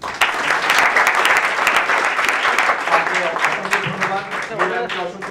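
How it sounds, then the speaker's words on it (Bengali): A university auditorium audience bursts into loud, sustained applause marking the end of a program, dense clapping that tapers slightly with voices mixed in. "একটা জোরে হাততালি দিই"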